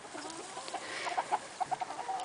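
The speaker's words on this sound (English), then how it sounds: "the chickens just discovered the pile I just put in here, and they're getting all excited" Chickens scratching at a fresh pile of goat shed manure give soft, short clucks, a few single notes and then a quick run of clucks, close by over a quiet background with no talking.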